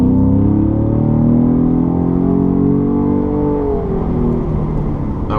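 A 2017 Ford Raptor with a CORSA Xtreme exhaust revs at full throttle, a loud, close engine note rising steadily through the rev range and then dropping away. No one speaks.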